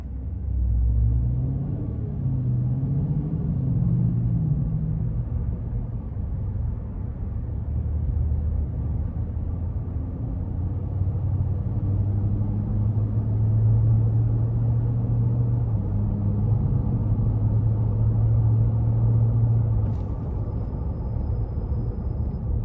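2021 Nissan Titan Pro 4X pickup with the 5.6 engine driving through city streets, a steady low engine and road rumble from inside the cab, with engine notes rising and falling slightly.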